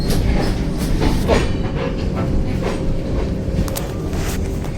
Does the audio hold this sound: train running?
yes